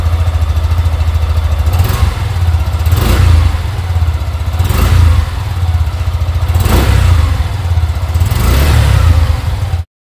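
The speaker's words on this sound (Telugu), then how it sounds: "It's time to listen the bike exhaust note." Suzuki Gixxer SF 155 motorcycle exhaust idling loud and close, blipped up in about five quick revs spaced a couple of seconds apart, with no talking.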